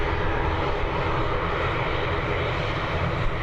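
An Aer Lingus ATR 72-600 turboprop at Dublin Airport gives off a loud, steady engine roar that stays close and constant with no voices over it.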